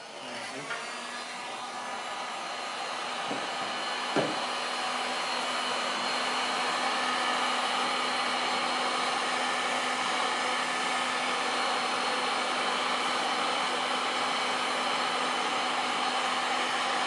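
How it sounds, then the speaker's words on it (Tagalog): A blower drying silkscreen print ink runs with a steady, loud whirring hum, starting up at the beginning and holding constant, with a brief click partway through. "Okay, so ito na yung blower."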